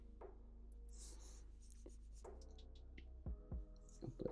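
A pencil sketches lines on paper while drawing a Dragon Ball character, with faint scratchy strokes going up, down and across in short repeated passes, close and quiet with no speech.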